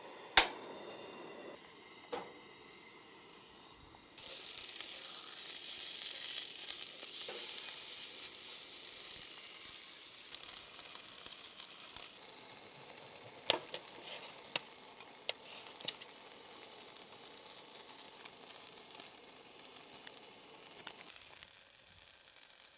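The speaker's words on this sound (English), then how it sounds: "burger patties, which we can fry up on the old saucepan here on the cook stove" Burger patties sizzle and spit in a saucepan on a camp cook stove, a steady close frying hiss with scattered pops and crackles, the sizzle jumping louder a few seconds in and holding throughout.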